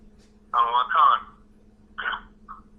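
Electronic noise from an unmuted phone during a Bible study talk: a couple of short warbling bursts over a steady low hum, with a brief faint blip at the end, fairly close.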